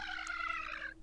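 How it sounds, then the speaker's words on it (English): Toad's squeaky cartoon cry from Mario Kart when hitting a banana, a single bright, nasal, warbling voice call lasting about a second and cutting off abruptly, heard alone. "When Toad hits a banana in Mario Kart."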